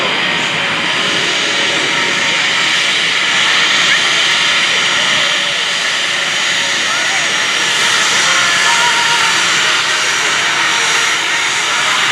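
Steady, loud jet roar and hiss of a T-33 Shooting Star circling at the Great Texas Airshow with its smoke system on, sustained throughout at an even distance, with crowd noise and talk mixed underneath.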